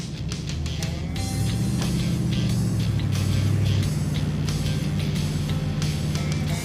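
An old hotwired tow truck pulls out of a scrapyard, its heavy engine droning steadily and loudly, with a low rumble that rises in pitch as it works through the gears.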